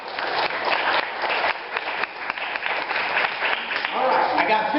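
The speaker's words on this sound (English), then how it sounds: "Y'all give Joanne a round of applause." A church congregation applauds for Joanne during a Sunday service, a lively spread of clapping from the pews with voices and calls mixed in, swelling toward the end.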